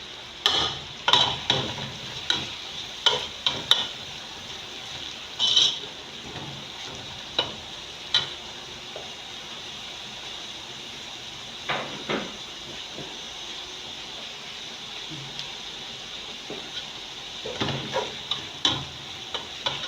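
Vegetables frying in a pan for Nigerian fried rice, a continuous hissing sizzle under bursts of stirring, with spoon clatters and scrapes clustered early and again near the end, close up and without speech.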